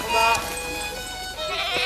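A goat bleats with a wavering, nasal cry close by, several short calls in a row against a faint background murmur.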